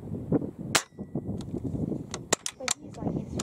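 An Umarex Gauntlet .25 air rifle firing slugs, a few sharp cracks scattered among people talking outdoors.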